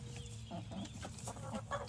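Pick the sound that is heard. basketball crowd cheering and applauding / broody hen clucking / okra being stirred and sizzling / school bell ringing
broody hen clucking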